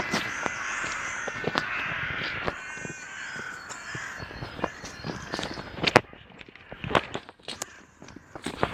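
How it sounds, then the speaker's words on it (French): Crows caw repeatedly in a forest, several harsh calls close by, mixed with crunching footsteps and twig crackles underfoot. "Oh, les corbeaux. Purée, ils saoulent."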